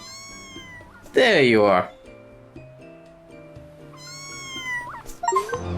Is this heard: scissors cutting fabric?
no